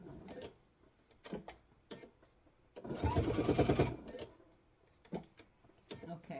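Sewing machine stitching an apron casing, one steady burst of running stitches lasting about a second in the middle, with shorter handling clicks and rustles around it.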